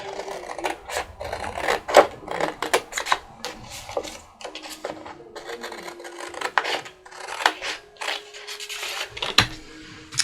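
Paper is cut by hand with scissors for tag envelope flips, giving close, irregular rasping snips and rubbing strokes in short bursts with pauses between them.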